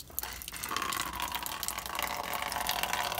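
Well water pours from a water tank into a container, a continuous splashing gush that settles into a steady, fairly loud filling stream with no one speaking.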